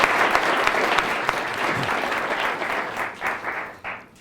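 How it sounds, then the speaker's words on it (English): An audience at a public talk gives a round of applause, dense clapping that holds steady and then thins into scattered final claps over about four seconds, without any speech. "Let's give him a round of applause."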